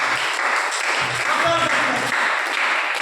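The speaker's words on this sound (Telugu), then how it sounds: "చప్పట్లు కొట్టండి మంచిగా." A church congregation applauds steadily with dense, continuous clapping while a voice speaks over it.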